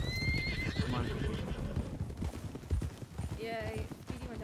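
Horse hooves clip-clop steadily in a video game amid a busy background, with a horse whinnying and people talking over it.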